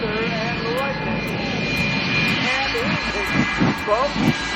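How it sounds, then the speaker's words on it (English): An old jet engine roars steadily, a loud sustained whine and rumble with rising and falling tonal sweeps, while someone talks over it throughout. "Jet engines will come alive"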